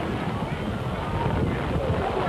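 Strong gusts of wind buffet the microphone in a steady roaring rush, loud and unbroken, with no other sounds standing out.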